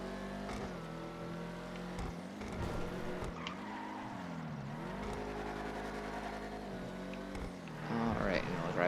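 A Declasse Vigero ZX muscle car in GTA 5 drives with its engine droning and rising and falling through gear changes, tires briefly squealing, and someone talking over it.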